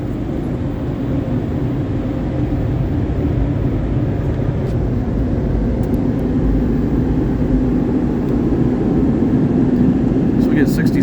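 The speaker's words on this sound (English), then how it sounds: "the blowers are just gonna start up, so it'll get a little noisy" Drying blowers running in a car wash tunnel at night, a loud, continuous roaring rush of air that holds steady throughout with no pauses.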